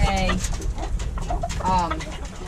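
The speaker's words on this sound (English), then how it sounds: "he raises red and white homing pigeons" Homing pigeons coo close by, soft throaty rolling calls repeating a few times in a short burst.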